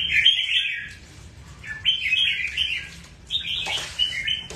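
A pet bird chirping while it bathes: repeated bright, high chirps in short clusters with small pauses between, close and clear, with soft splashing and wing flutters underneath.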